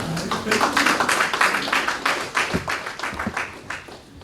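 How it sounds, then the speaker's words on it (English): A modest round of clapping from a conference audience at an aviation careers event, scattered hand claps that swell and thin out over a few seconds, fairly close and moderately loud. "I think we deserve a round of applause for ourselves."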